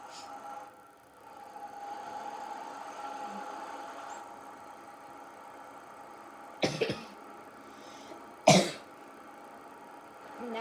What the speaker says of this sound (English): Keep coughing here, guys, because all this hay.